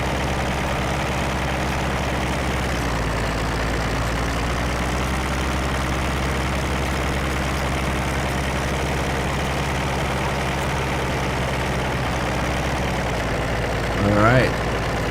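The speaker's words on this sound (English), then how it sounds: "So it sounds like a typical old tractor" A low, steady old Ursus 914 Turbo tractor engine in Farming Simulator 15 idles throughout with a chugging rumble, continuous and even, with a brief louder burst near the end.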